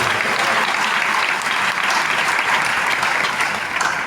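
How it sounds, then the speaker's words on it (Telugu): A church congregation claps together during a sermon, dense sustained applause filling the room, close and loud from start to finish. "చప్పట్లు కొట్టగలరు ఒకసారి"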